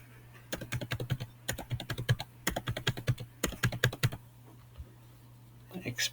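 Fingers typing a card number on a computer keyboard in quick bursts of close, crisp key clicks, pausing briefly before a final short flurry.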